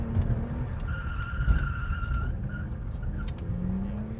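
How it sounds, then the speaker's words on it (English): A BMW E46 drifting through a turn on the handbrake, its tires squealing in long sustained tones over steady engine noise, close and loud throughout. "you're going to drive into the turn, good speed, second gear, pushing your foot of the clutch, pull the handbrake up, steer left"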